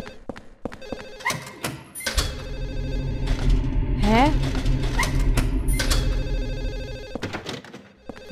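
A telephone rings repeatedly inside the Silent Hill 4 horror game, loud bell-like trills layered over a dense droning game soundscape, with sliding tones midway.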